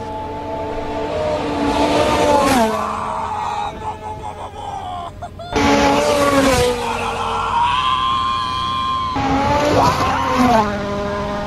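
A van driven fast on Swiss mountain roads, its engine loud and close with pitch sweeping up and down through gear changes and a squeal of tires, abrupt cuts between runs.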